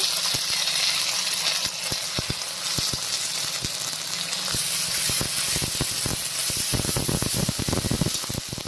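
Ginger-garlic paste sizzling loudly as it hits onions frying in hot oil, a continuous hiss broken by sharp crackles and the scrape of stirring.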